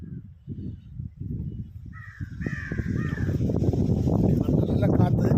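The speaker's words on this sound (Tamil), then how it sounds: "இங்கே பாருங்க, ஊட்டியில் உள்ள காக்காலாம் எப்படி இருக்கு பாருங்க." Crows caw outdoors in Ooty, a few harsh calls in a brief cluster while a person talks continuously underneath and a low rumble of wind or traffic builds.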